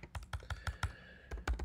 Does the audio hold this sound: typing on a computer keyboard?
yes